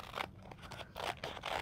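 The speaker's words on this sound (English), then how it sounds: "you'll take your scissors and you'll start cutting up the lines" Scissors snipping through construction paper along traced template lines for a children's craft, a few short crisp cuts in quick succession, close and fairly quiet, with no talking.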